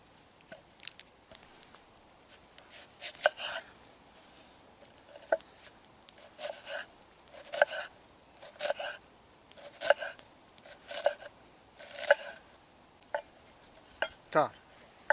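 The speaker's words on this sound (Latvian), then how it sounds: "Griezīšu sīpolu." A knife cuts an onion on a kitchen board while nettle soup is being made, giving sharp, rhythmic taps in short clusters with brief pauses, close and fairly quiet.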